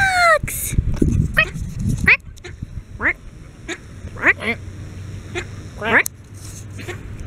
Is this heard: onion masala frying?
no